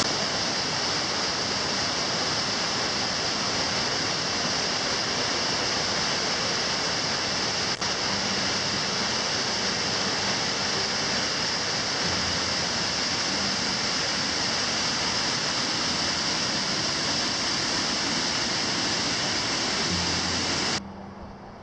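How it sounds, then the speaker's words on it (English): A waterfall just off a hiking trail in the Dolly Sods Wilderness gives a steady, dense roar of rushing water, loud and unbroken throughout, with no voices. "it looks like there's a waterfall right over here off the trail"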